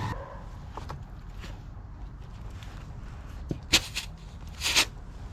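A small dog moves about nearby, with quiet snuffles, soft footsteps and a few short sharp sounds, including a louder burst near the end.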